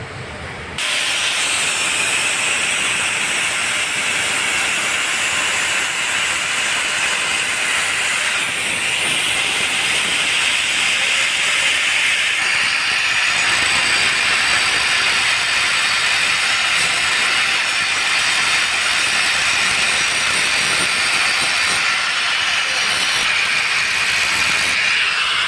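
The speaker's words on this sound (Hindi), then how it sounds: "कटिंग इसको करके दिखाते हैं आपको।" A metal pipe being cut for a 90-degree elbow joint gives a loud, continuous harsh grinding hiss that starts abruptly and runs steadily throughout, close up with no talking.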